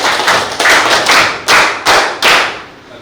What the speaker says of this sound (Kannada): ಜೋರಾದ ಒಂದು ಚಪ್ಪಾಳೆ